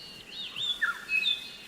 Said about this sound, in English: Superb lyrebird again.